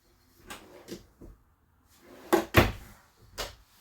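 Drawers in the kitchen of a Starcraft Autumn Ridge 26BHS camper trailer slide and knock shut, giving several close, hollow thumps and clacks spaced unevenly, with no voices.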